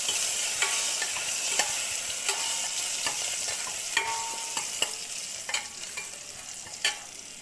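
Onions sizzle in hot oil with mustard seeds and garlic for a tempering, a loud continuous frying hiss broken by regular scraping clicks of stirring.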